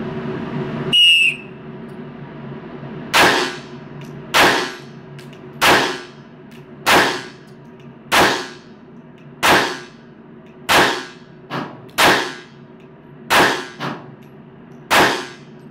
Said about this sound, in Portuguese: 10 disparos a 7 metros em 40 segundos.